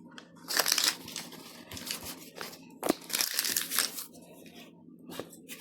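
A plastic packet of baking powder is emptied over flour for a homemade cake, giving close, loud bursts of crinkling and crumpling plastic in irregular waves, with no talking.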